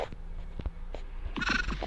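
A few faint knocks, then a sheep lets out a single wavering bleat near the end, fairly close.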